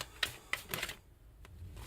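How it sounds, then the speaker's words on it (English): Tarot cards being shuffled by hand, a few quiet crisp riffling bursts and taps close by, irregular and brief, with no talking. "All right, one more shuffle."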